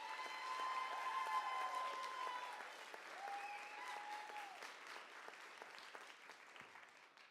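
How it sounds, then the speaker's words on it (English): An audience at a university graduate research talk competition final applauds the graduate students, sustained crowd clapping with whistle-like tones and cheers rising early, then a gradual thinning of the clapping over several seconds. "one more round of applause for our amazing graduate students"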